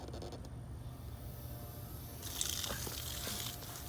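Water from a hose runs over a K&N air intake filter from a 2008 Infiniti G35x, quiet at first, then swelling into a brighter hiss of spray partway through.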